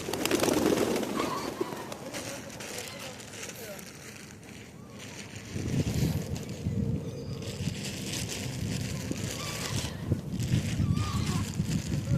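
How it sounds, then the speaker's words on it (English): Pigeons coo and flutter on the Lake Ontario waterfront at Sugar Beach in downtown Toronto, a few soft calls near and far under steady outdoor ambience, with someone talking over them. "Poor pigeons, they want some."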